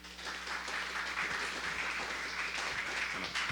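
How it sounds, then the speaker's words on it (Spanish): Applause at a university audiovisual and digital design showcase as a guest is welcomed on stage, continuous moderate clapping from a seated audience with a low steady hum underneath. "recibamos con un aplauso a Andy"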